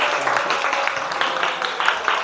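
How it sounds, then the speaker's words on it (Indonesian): Students clap together in a classroom during a guidance lesson, a short, fairly soft burst of mixed handclaps that fades slightly at the end. "Oke, tepuk tangan dulu buat semuanya."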